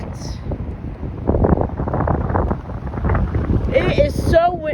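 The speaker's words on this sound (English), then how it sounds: "It is so actually a little bit windy right now." Wind buffets the microphone at Fort Lauderdale airport during plane spotting, a continuous rough low roar that rises and falls in gusts, with a brief tonal sound near the end.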